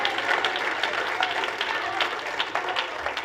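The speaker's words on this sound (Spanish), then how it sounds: "Un aplauso al Señor, quien vive y reina" A congregation claps during a Spanish-language church sermon, a busy spread of hands under a steady murmur, moderately loud and continuous with a few sharper claps standing out.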